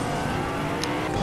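A vehicle engine in the video game Fortnite revs steadily and close, a constant whirring drone with no pause, heard on its own without talk.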